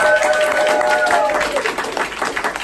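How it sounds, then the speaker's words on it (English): An audience applauds a newcomer who has just tried juggling, steady broadband clapping filling the whole stretch with some speech mixed in. "let's give CC a big round of applause"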